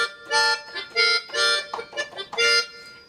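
A Yamaha Sonogenic keytar in jam mode with its backing setting has keys mashed, producing bright, bursty chordal stabs in uneven pulses, close and alone.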